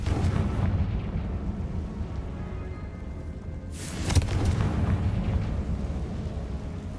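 A Confringo spell explosion in the Hogwarts Legacy video game bursts out as a loud blast, with a broad rumbling roar that carries on over continuous game noise.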